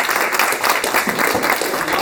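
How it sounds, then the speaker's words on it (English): A room full of people gives a round of applause at a speaking event, loud dense clapping sustained evenly throughout with no talk on top. "let's have a nice round of applause for that wonderful"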